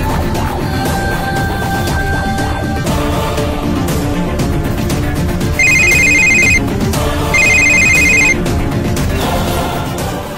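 A phone rings out while a call goes to the hospital: steady repeated ringtone tones, loud and close, with the pattern shifting partway through into brighter pulsed bursts, and no voices.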